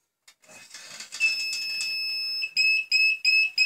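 A Buchholz relay's tripping alarm sounds during relay testing. It starts as a steady, loud electronic tone, then breaks into a series of sharp, evenly spaced beeps, close and alone.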